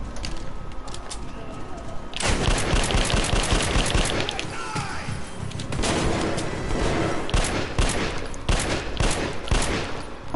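Dense bursts of gunfire from the game Metro Last Light Redux on PS4, with rapid volleys and sharp shots crowding together loudly after a quieter opening, running almost continuously to the end.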